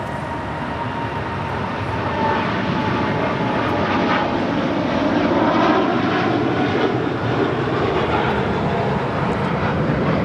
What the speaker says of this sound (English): This is United Airlines Flight 39 heading to Tokyo Haneda in a 787-10 Dreamliner.